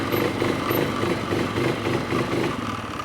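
The engine of a 2006 Polaris Hawkeye ATV runs steadily at moderate volume, a continuous mid-pitched drone with a slight pulsing rhythm and no sharp revs.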